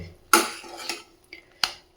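Semolina with ghee is stirred in a metal pan, with a few sharp scraping clinks of a spoon against the pan spaced out between quiet pauses.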